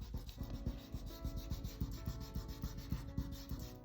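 Rubbing strokes on paper while shading a pencil drawing, a soft, close scratchy sound repeating in quick, regular back-and-forth strokes with no voices.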